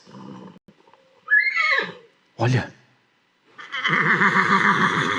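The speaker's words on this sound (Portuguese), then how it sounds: "muitos carros, muitos cavalos, homens de guerra fortes. Estão chegando." Horses neighing as a sound effect for Egyptian war chariots in a children's Bible lesson on the exodus, a shrill whinny and a snort followed by a long, wavering neigh, with a short spoken word near the start.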